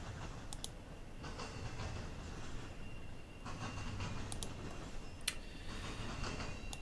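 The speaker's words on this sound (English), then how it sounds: "That's where you can hear that train noise right now." Train noise carries through stormy weather as a steady low rumble with faint rhythmic clatter and a few sharp clicks, fairly quiet and distant, with no talking over it.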